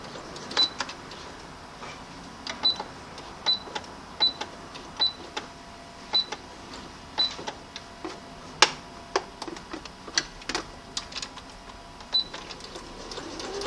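A home sewing machine stitches scrap fabric with a quiet, steady mechanical run broken by regular ticking clicks, close and moderately soft, with no talking.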